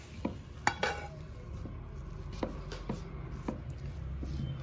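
A spoon scrapes cooked, dried-out green pea kachori filling from a pan onto a plate, making faint, irregular taps and scrapes over a low background hiss.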